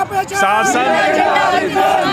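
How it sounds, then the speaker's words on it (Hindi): A huge crowd at a Mayawati political rally roars and cheers continuously, dense overlapping voices and shouts close and loud throughout. "आपने देख लिया लाखों की भीड़"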